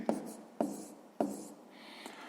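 A pen writes a fraction on paper in three quick, close strokes, evenly spaced about half a second apart, followed by a faint softer scratch.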